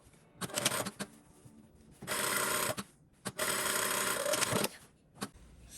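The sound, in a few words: sewing machine stitching side seams of a bustier dress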